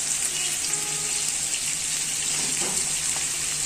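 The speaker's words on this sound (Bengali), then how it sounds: "পরিমাণ মতো পেঁয়াজ কুচি দিয়ে ভালো করে নেড়ে চেড়ে নিব।" Chopped onions fry in a pan with a steady, close sizzle and faint stirring scrapes for a few seconds, no voices over it.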